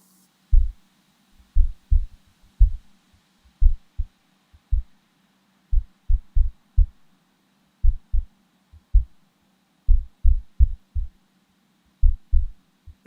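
A drum kit track through a noise gate: isolated, punchy low kick-drum thumps in an irregular pattern, each cut off cleanly into near-silence, with no cymbal or snare bleed between hits.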